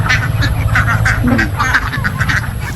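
A flock of about 400 ducks quacks continuously while being herded across Leyte, with dense overlapping calls and a steady low rumble beneath.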